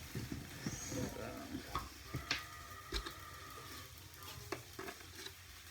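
A one-pan chorizo hash fries and is stirred, with soft sizzling under scattered scraping and ticking utensil knocks against the pan, fairly quiet and close.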